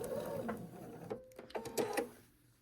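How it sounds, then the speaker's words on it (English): Short bursts of a sewing machine stitching through a quilt block, quick uneven mechanical chatter up close with small clicks between, no talking. "So we're going to stitch through here, making sure we stitch below this point."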